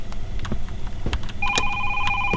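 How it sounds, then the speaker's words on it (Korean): A telephone rings in a horror video game, steady electronic ring tones starting partway through and continuing to the end, loud over a cluttered game background of bumps and knocks. "아 전화 안 받아 꺼져."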